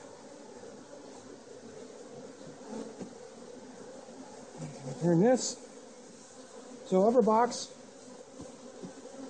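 Honey bees buzz in an open hive as a steady low drone beneath nearby talk, with a couple of louder, closer passes of buzzing.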